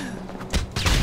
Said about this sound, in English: It was a firework.